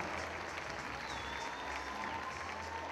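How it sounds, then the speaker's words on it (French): Applause for Jean Biamonti, father of Alexandre, at an awards ceremony paying homage to Alex Biamonti, holds as a steady, moderate wash of many hands clapping from a crowd with faint voices mixed in. "Monsieur Jean Biamonti, que vous pouvez applaudir aussi, le papa d'Alexandre."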